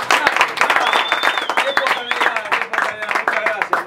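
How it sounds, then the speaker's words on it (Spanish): A studio audience applauds as a television talk show opens its second segment. The clapping is busy and moderately loud, and voices and other sounds run through it the whole time. "con el aplauso de todos, por favor."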